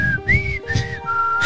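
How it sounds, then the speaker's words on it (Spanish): A person whistles a clear, wavering tune in three or four sustained phrases, close and fairly loud, with no talking over it. "dame el silbido de nuevo, a ver"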